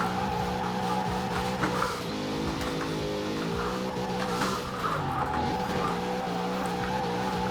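A car in a video game drifting through a corner, with engine revving and sustained tire squeal and skidding at steady volume.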